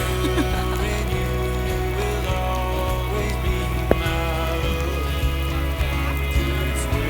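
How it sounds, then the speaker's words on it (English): Steady rain falling outdoors, a dense continuous hiss of drops on surfaces holding at an even level throughout, with no voices over it. "Is the rain stopping you, Abby?"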